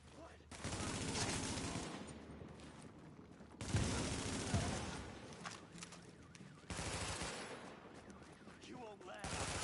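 Dense bursts of automatic gunfire from a firefight in the video game The Division, loud and sustained in three long waves with brief gaps, overlapping shots and crackle throughout.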